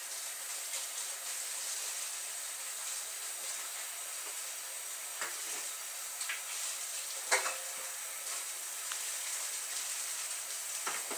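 Tap water runs steadily into a kitchen sink as hands are washed between turkey-prep steps, a constant close hiss broken by a few faint splashes and clinks, with no talk.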